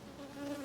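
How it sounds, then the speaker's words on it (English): A close, steady buzzing of honey bees, guard bees at a hive, a droning hum holding through a brief moment. "if you got bees looking at you, those are guard bees"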